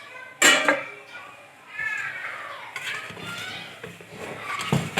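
A lid comes off a pot of steamed jaggery rice on a home stove, with a sharp metal clank of cookware near the start, then softer utensil clatter and light kitchen handling sounds.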